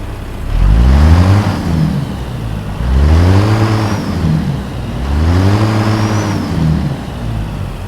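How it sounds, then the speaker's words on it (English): Harley Davidson themed Lonestar truck in American Truck Simulator with a Cat C15 630-horsepower engine, heard rumbling and revving loudly in three rising-and-falling surges, deep and close with no talk. "But we'll go ahead and start up the truck here."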